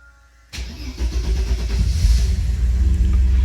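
A Mercedes W114 with a boosted, EFI-swapped M103 engine cranks and fires after a half-second of quiet, then settles into a loud, close, smooth idle that builds slightly and runs on alone.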